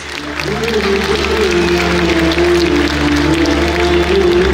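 Applause for a prize winner at a school annual day event, a steady, loud crowd clapping throughout, partly masked by a sustained tonal music or hum layer and some voices.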